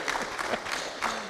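Audience applause at a media lecture, a brief steady patter of many hands clapping through the whole moment.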